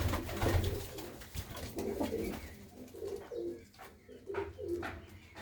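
Pigeons cooing in a rhythmic series of low, throaty calls at a Punjabi pigeon fancier's loft, including a mottled male bird, fairly close with no talk.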